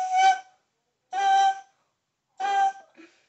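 Three separate bassoon notes, each short and moderately loud, with silent pauses between them where breaths are taken; a faint breath follows the last note.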